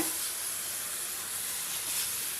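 Steady, bright sizzling hiss as hot sugar syrup is poured into a pan of wheat flour and ghee for halwa, continuous and fairly loud without pause, no talking.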